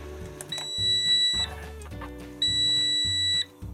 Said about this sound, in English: It has an M beeper